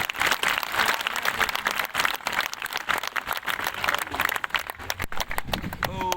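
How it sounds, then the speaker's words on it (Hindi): Enthusiastic clapping from a crowd at a speech, dense and loud, with scattered cheering and voices mixed in; it thins slightly toward the end. "मेरे को एक बार जोरदार तालियां बजाइए आप"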